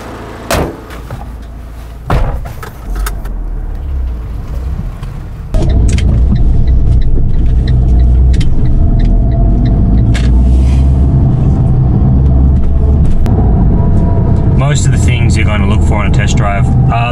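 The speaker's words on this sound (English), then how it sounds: "I'm gonna get out on the road and test drive the car." A used car out on a road test drive, with a steady low engine and road rumble that grows louder after a few seconds, preceded by door thumps, and a voice talking over it.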